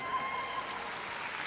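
An arena audience at the Crufts 2024 dog agility event cheers and applauds as a run finishes, a dense, sustained wash of clapping and crowd noise at moderate loudness.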